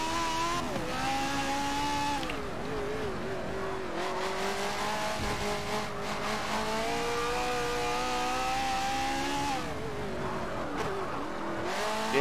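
A single-seater race car engine in Forza Motorsport 7 screams loudly and continuously, its pitch climbing through the gears and dropping briefly on shifts and braking, with faint tire squeal under the steady high-revving whine.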